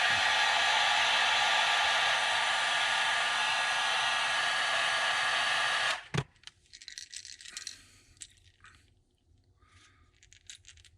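A heat gun blows a steady, loud roar for about six seconds while setting paint on a custom-painted crawfish fishing lure, then cuts off abruptly, leaving light handling clicks and rattles.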